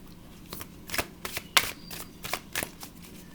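A deck of tarot cards shuffled by hand, quick crisp riffles and flicks in short irregular bursts, close and fairly quiet with no talking.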